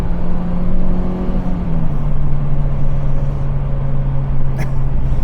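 MG TF anniversary edition sports car engine revving steadily and loudly for several seconds, a sustained drone that dips slightly in pitch partway through, with no talking.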